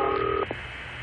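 Brief dial tone from a vintage telephone network cutting off, followed by a single short click of dialing, close and clear with no voices.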